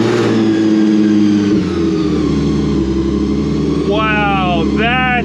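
A Nissan 350Z with a newly installed Procharger supercharger fires up and idles with a loud, deep, rough rumble up close, then revs sharply twice, a whine climbing each time, while people talk nearby.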